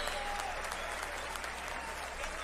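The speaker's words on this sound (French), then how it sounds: "je voudrais qu'on les applaudisse avant tous les 2 comme il se doit" Steady applause from an arena audience for two boxers at an influencer boxing event in Marseille's Palais des Sports, a dense, even wash of clapping that runs unbroken and fairly faint throughout.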